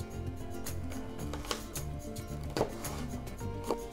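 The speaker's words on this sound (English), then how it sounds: "first we chop the onion" An onion for lentil soup is chopped with a knife on a board, quiet, irregular cutting taps, a few sharper knocks standing out against faint background music.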